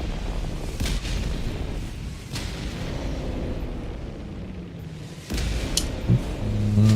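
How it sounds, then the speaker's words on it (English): Orbital barrage explosions from a Helldivers super destroyer strike, heard as several sharp distant blasts spaced a couple of seconds apart over a steady low rumble, with a heavier impact near the end. "I think that's a super destroyer getting blown up from orbit"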